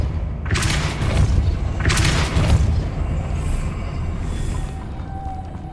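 Depulso spell cast in the video game Hogwarts Legacy, giving two loud whooshing blasts with a booming impact about a second and a half apart, followed by fainter shimmering magical tones over a constant rumbling game background.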